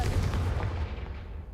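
A Confringo fire spell cast in a video game bursts out as a dense, booming blast with a low rumbling body, filling the whole moment loudly before easing off slightly.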